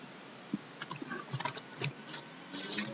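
Irregular clicks from typing on a computer keyboard, quiet and close, in short uneven bursts with brief pauses between keystrokes.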